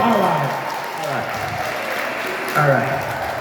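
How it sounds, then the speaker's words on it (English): Guests at an event venue applaud a couple being toasted, a lively round of clapping with voices and cheers mixed in from the crowd. "Give me a round of applause."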